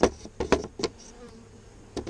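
Honeybees buzz around an open hive during a backyard inspection in Texas. Close, intermittent buzzing comes in short bursts as single bees fly past, with quieter stretches in between and no talk.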